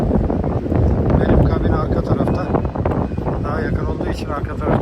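A breeze gusts across the deck of a cruise ship, producing a loud, steady rumble of wind buffeting the microphone with a person talking over it.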